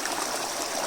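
Water rushing steadily somewhere below a mountain trail at Chopta, a continuous broadband wash with no breaks, fairly loud and with no voices over it.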